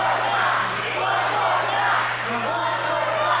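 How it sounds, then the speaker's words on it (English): Wrestling crowd at a Super Shogun Wrestling Graveyard Gauntlet show chanting during a long match, a dense roar of voices with rhythmic swells, loud and continuous with a steady hum beneath. "Crowd chanting one more time for another scoop slam"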